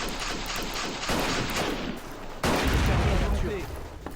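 Battle of Empires 1914-1918 World War I urban combat, with rifle gunfire crackling in a dense, continuous barrage and heavier booms bursting in partway through, loud and chaotic.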